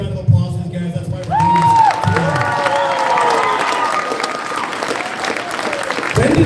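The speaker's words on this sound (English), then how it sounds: "so big round of applause for these guys." A crowd at a Lindon City centennial painting unveiling breaks into sustained clapping and cheering after a short spoken lead-in, with a voice continuing over the applause.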